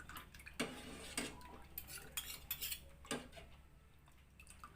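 A spoon stirs homemade banana syrup, giving faint, scattered clinks and light scraping against the container in a quiet room.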